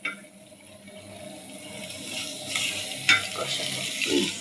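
Turmeric, chili and other ground spices sauté in a pan for mung dal with chicken necks and gizzards, a close, building sizzle broken by scraping stir strokes and a sharper clack partway through.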